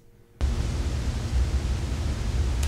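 Room tone from a stereo XY microphone, boosted very loud: after a brief quiet start, a steady broadband hiss with a heavy low rumble runs alone and unchanging throughout.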